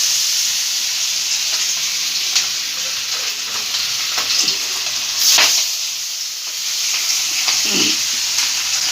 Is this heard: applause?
no